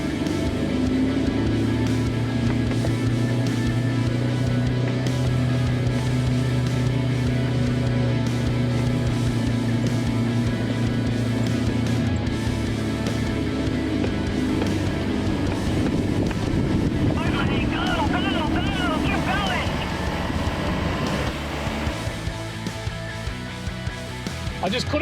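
Four-wheel drive vehicle crawling in low third gear through the Simpson Desert, a steady droning engine hum with wind noise and cabin rumble, people talking over it partway through.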